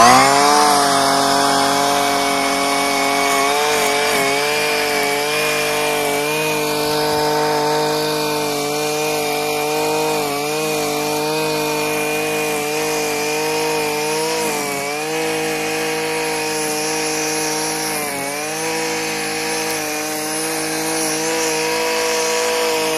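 A Wild Badger 26cc gas weed trimmer engine runs loud and close at a steady high buzz throughout, its pitch wavering slightly as the throttle shifts, with no talking over it.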